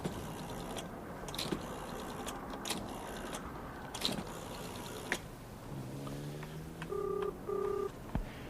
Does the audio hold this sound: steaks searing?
no